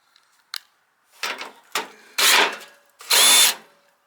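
A power drill backs screws out of a rusty wheel in short bursts, with a couple of brief whines followed by two longer, louder spins close by, separated by quiet gaps.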